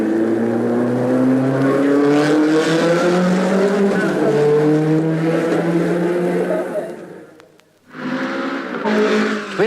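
A race car pulls away after a pit stop for refuelling, oil and a wheel change, its engine rising loud and close in pitch before a brief dip and a renewed roar.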